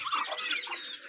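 Domestic ducks on a farm quacking in a short, close burst of several overlapping calls.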